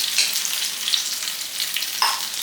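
Dried red chillies sizzle and crackle in hot oil in a pan, a close, steady frying hiss with small spits and pops throughout, no speech.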